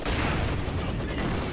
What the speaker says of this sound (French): j'ai vite la grenade à fusil